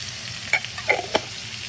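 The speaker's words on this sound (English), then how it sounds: "You actually want to fry it a little bit. This will actually get all the oil in the Tom Yum to come out." Instant Tom Yum paste frying in oil, a soft continuous sizzle broken by a few sharp stirring scrapes against the pan.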